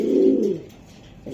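Racing pigeon cooing close by: a low, throaty coo lasting about half a second, then a short pause and the start of another coo, with no voices.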